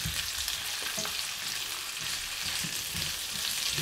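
Fresh tomato goes into frying onion in a hot pan for a stir-fried chicken dish, a loud dense sizzle with crackling spatter and occasional soft stirring scrapes, steady and close.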